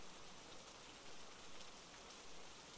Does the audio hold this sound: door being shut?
no